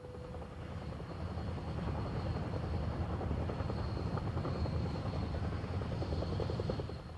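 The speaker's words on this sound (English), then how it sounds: "The helicopter taxis over the top" A Mil Mi-10 heavy-lift flying crane helicopter taxiing, its rotor chopping steadily and engine humming at a fairly constant level, with a distant, even drone throughout and no voices.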